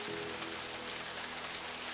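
Steady rain falls in a visual novel game scene, a dense, even patter of drops on a surface with a faint low hum underneath, continuous and unchanging throughout.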